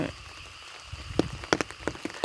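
Heavy rain falling at night at a rural home in Non Sung, Thailand, a soft continuous patter with scattered sharper drips and splashes close by.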